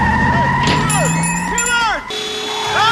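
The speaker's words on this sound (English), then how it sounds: "You trying to do a car chase in a Geo Metro?" A Geo Metro's engine revs and tires squeal through a tense film car chase, with swooping whooshes and a brief voice under the action.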